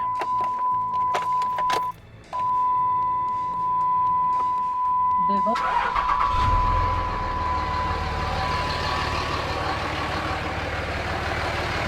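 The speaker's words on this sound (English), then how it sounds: "And the true test will be once we actually start the truck." A third-generation Dodge Ram pickup's engine cranks and catches about midway, settling into a steady, loud idle that follows a high electronic chime and a few clicks.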